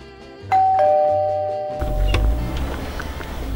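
A two-tone doorbell chime rings once, clear and close, its tones ringing out before background noise and shuffling rise.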